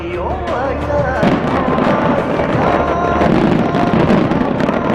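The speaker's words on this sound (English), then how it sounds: "By choosing to set off green fireworks last year, Taipei 101's New Year celebration was able to reduce their carbon emission by 1/3" Green fireworks burst in dense, continuous crackling volleys at the Taipei 101 New Year celebration, loud and sustained over a roaring crowd-like wash.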